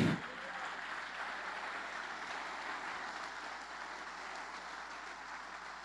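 A church congregation claps during a sermon, a steady, even wash of applause heard at a moderate distance and fairly faint, continuing without pause.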